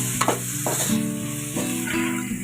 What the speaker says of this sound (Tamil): சேர்த்துக்கிட்டு நல்லா கிண்டி விடுவோம்.